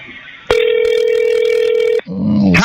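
An incoming call rings out as a single loud, steady electronic ring tone lasting about a second and a half, cutting off abruptly and followed by a brief softer tone.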